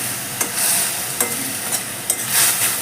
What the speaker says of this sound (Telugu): హై ఫ్లేమ్ మీదనే చేసుకోవాలి, త్వరగా ఉల్లిపాయ వేగుతుంది మంచిగా.